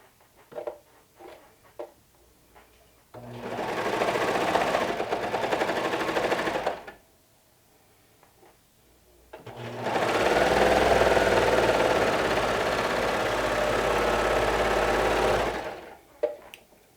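Domestic sewing machine stitching fabric for a cozy wrap, in two sustained runs of about three and six seconds separated by a quiet pause, with a steady whirring motor and rapid needle rhythm, loud and close.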